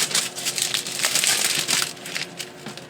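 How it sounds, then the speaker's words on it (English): Plastic packaging crinkles and crackles up close as a new cutting plate for a die-cutting machine is unwrapped for a Stampin' Up! card project, with irregular rustling bursts throughout. "All right, I'm opening a new plate."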